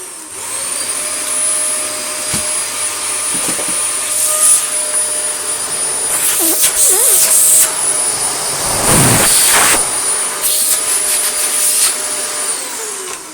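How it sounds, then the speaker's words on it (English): A restored limited-edition Dyson DC24 upright vacuum cleaner runs loud and close with a high, steady motor whine and airy rush, its pitch surging and dipping briefly midway as it is moved about. "it has perfect both suction and motor performance, and the other important part, the brush roll."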